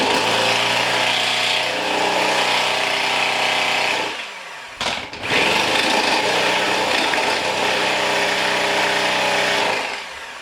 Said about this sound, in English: I guess what we're doing here is trying to get as much air into the egg mix.